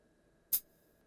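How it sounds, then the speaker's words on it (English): A single half-open hi-hat hit from a Korg Trident synthesizer drum kit, one short bright burst with a brief sizzling tail, alone in near silence. "that is a half open hi-hat sound"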